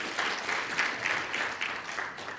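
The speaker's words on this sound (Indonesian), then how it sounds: "Tepuk tangan untuk Tuhan." A church congregation at a Sunday service applauds, a dense, warm roar of clapping from many hands that swells and pulses steadily for the whole stretch with no voices over it.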